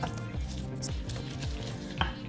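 Torn basil stir-fries in a hot wok for Thai green curry, giving a steady close sizzle with rhythmic scraping strokes.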